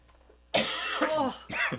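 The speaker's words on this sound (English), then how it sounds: "A very dry cough" A dry, raspy cough bursts out close up, followed by a second shorter cough after a brief pause.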